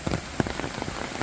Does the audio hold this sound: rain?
yes